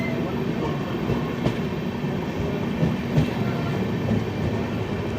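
The 12978 Ajmer–Ernakulam Marusagar Express moving off from the Sawai Madhopur home signal, heard from inside as a steady, loud rumble with faint rhythmic wheel clicks, and no voices.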